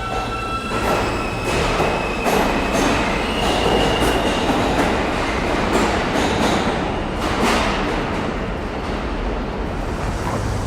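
A New York subway local train runs loudly underground, its continuous roaring rumble broken by rhythmic wheel clatter and occasional high metallic squeals, heard up close from inside the car with no voices.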